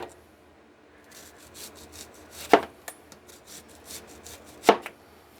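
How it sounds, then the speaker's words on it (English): A knife chops through onions and lemons into rings on a cutting board, giving soft scattered taps with two sharper, louder strikes a couple of seconds apart, close by and with no talk. "I'm just going to basically chop this up in rings"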